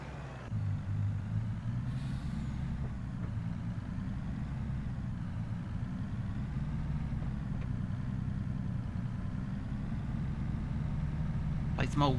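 Old truck in a farming simulator game idling with a steady low engine rumble throughout, a sharp hiss of air brake release near the end, with a voice talking over it.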